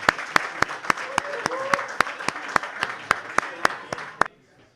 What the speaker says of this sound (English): Can you please give a round of applause to Coach Lizzie?